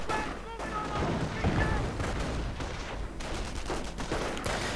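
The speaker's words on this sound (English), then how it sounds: "Of course, a bit of mortar fire" Mortar fire and other battle sounds in a WWII strategy video game, with repeated booms and gunfire bursts over a dense, continuous din of combat noise. A voice talks throughout.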